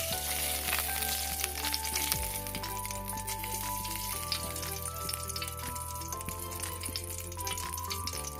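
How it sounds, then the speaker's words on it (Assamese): Tomatoes fry in a pan with a steady close sizzle and crackle, accompanied by faint stirring and no voices. "বিলাহী ফ্ৰাই কৰিবলৈ মই এখন পেন পাতি ল'লোঁ আৰু এতিয়া মই ইয়াত বিলাহীখিনি ফ্ৰাই কৰিম।"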